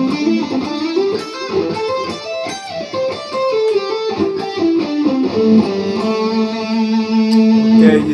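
A distorted electric guitar plays a minor pentatonic lick that shifts positions down and back up the neck, a loud continuous run of sustained single notes with no talking.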